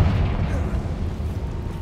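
A Confringo blasting spell explodes in Hogwarts Legacy, producing a loud, sustained booming rumble that stays heavy and dense through the whole stretch.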